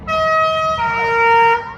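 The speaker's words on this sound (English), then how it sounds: "There goes the fire engine." A fire engine siren wails loudly and close as it passes a car show, its steady tone dipping in pitch partway through, heard alone without talk.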